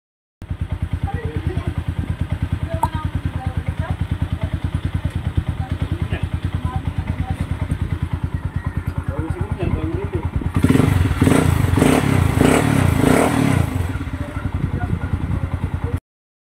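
A Rusi Rango 150 motorcycle engine idles with a fast, steady putter close by, then revs louder for a few seconds before settling back; voices are faint beneath.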